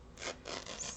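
Paper is torn by hand for a textured craft layout, two short rough ripping bursts close to the microphone within about a second, with no voices.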